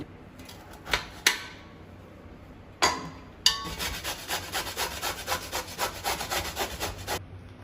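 Peeled bottle gourd scraped on a grater for kofta, a few separate rasping strokes at first, then a fast, steady run of close, rhythmic grating.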